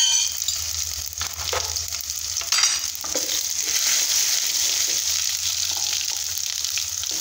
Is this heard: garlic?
yes